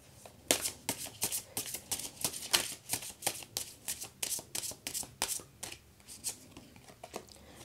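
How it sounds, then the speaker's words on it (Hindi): Tarot cards shuffled by hand in a steady series of crisp riffling flicks and slaps, close up and fairly quiet, repeating rhythmically throughout. "एक बार और शफल करके देखते हैं"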